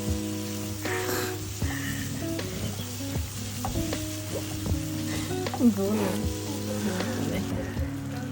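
A spatula stirs and mixes hilsa fish curry with beans and potatoes in a sizzling pan, steady frying hiss with scraping strokes, under a constant low background hum and tones.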